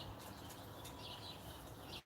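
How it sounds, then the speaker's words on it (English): Birds outdoors twittering in scattered chirps over a steady background hiss, faint and somewhat distant, with no talk. "There are birds all over out there."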